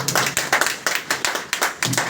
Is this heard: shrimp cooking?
no